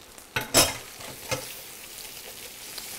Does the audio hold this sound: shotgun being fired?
no